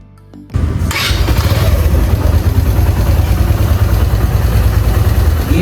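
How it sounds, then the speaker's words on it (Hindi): A brand-new Suzuki GSX-125 motorcycle, 200 km on the clock, fires up after a brief quiet moment and settles into a steady, close, loud idle with an even low-pitched throb. "ये इस बाइक का आइडल पे साउंड है।"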